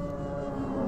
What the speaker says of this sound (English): That dragon call, baby.